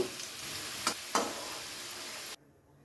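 Potatoes frying in hot oil for a Bengali mutton dak bungalow, a steady soft sizzle with two brief sharper crackles as pieces are moved, then cutting off abruptly into near silence.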